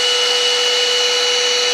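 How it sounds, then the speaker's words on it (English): A vacuum cleaner runs at high speed, a loud steady whine with broadband roar held unchanged throughout, close to the microphone with no talk. "This vacuum cleaner goes really fast"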